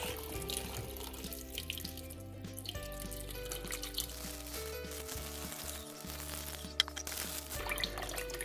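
Water pours steadily into a pot holding about twenty mussels for a mussel broth, a continuous close splashing trickle with small drips and a brief bump, no talk.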